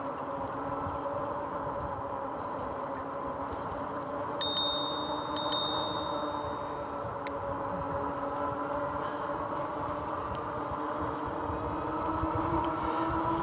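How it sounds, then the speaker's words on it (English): A small bicycle bell built into a Tektro mechanical brake lever on an e-bike rings twice in quick succession, bright and close, over steady wind and tyre noise on a wooded park trail. "I'm getting used to using the bell here again."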